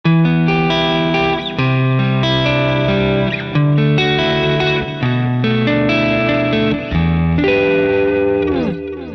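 An electric guitar runs through a Revv D20 amp with a Solo Dallas Storm overdrive and Source Audio Collider delay, sounding a sustained, distorted chordal phrase with echoing repeats and a ringing, decaying tail.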